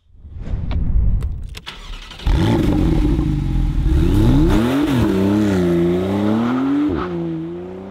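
A Porsche 991 Carrera S Endurance Racing Edition sports car engine roars close by, revving hard and accelerating, its pitch climbing and dropping through gear changes.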